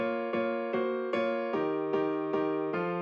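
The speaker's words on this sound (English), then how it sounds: "So first thing we have is this piano, and it sounds like this." Piano melody from a beat built in Ableton 10, a steady sequence of plucked chords struck roughly every half second, moderately quiet and alone with no talk.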